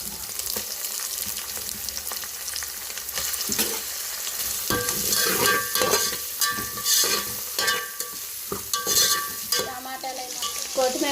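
Tomatoes fry with ginger garlic paste in a pan for a chicken pulao, a soft sizzle that grows louder and busier halfway through, with stirring scrapes and clatter close by.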